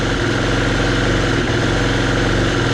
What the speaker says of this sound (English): You hear it missing, there it goes, and it just dies.